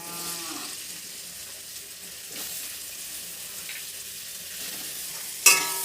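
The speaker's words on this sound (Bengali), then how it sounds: "নেড়ে চেড়ে একটু ভালো মতন ভেজে নেব।" Soya chunks fry in butter in a kadai while being stirred, a continuous sizzle with occasional scraping knocks and a sharp clatter near the end.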